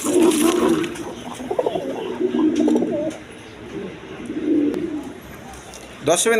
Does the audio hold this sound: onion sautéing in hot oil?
no